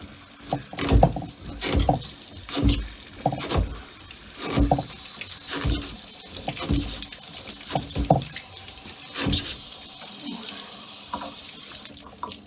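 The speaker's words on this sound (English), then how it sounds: "See all the leaking from the fact that the switch doesn't quite work." Water leaks and splashes from a faulty switch on a property's water system during winterizing, heard up close as an irregular run of spattering drips and gushes in uneven pulses.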